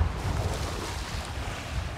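Lake water washing over a shore and sweeping along loose shoes, a steady close rush of low splashing surf mixed with wind buffeting the microphone, with no voices.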